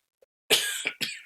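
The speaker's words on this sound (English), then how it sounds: "got a little coughing going on" A person coughs at close range: one harsh cough followed by two shorter coughs, all within about a second.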